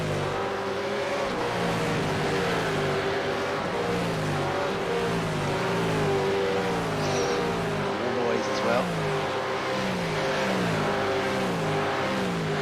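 V8 race cars in a sim racing video game championship roar continuously as several engines rev and shift, with a dense, loud, layered drone that rises and falls throughout and a commentator talking over it.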